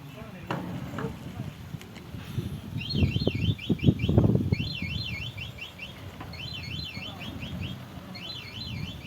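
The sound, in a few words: vehicle reversing beeps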